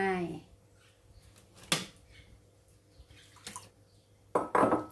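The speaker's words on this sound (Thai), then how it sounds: "ใส่น้ำมะขามเปียกเข้าไป" Tamarind water poured into a pan while cooking shrimp pad thai: faint, brief liquid splashes and clinks of utensils against the pan, a louder sizzling burst near the end, with someone talking.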